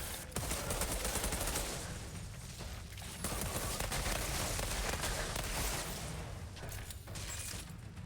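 Suppressive gunfire in the video game Outriders, sustained rapid automatic bursts with dense crackling reports that carry on almost unbroken, with a couple of short pauses.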